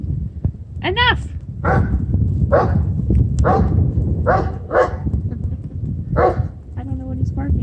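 A dog barks repeatedly outdoors in a blowing snowstorm, a series of loud, close barks spaced about a second apart over a constant rush of wind and snow, with a yelp mixed in.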